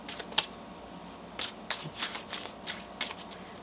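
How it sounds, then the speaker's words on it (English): Close-up riffling and snapping of tarot cards being shuffled in several quick bursts, with short pauses between them. "One more shuffle"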